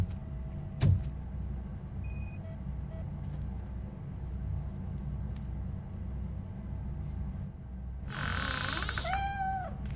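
Cat meows in Robocop: Rogue City sound over a steady low game rumble, with a short rising-and-falling cry near the end after scattered electronic chirps and a sharp thump early on.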